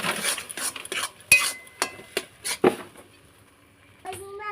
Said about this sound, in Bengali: আর এবারে আমি তড়কাটা কিন্তু দিয়ে দেবো, একটু নাড়িয়ে নেবো।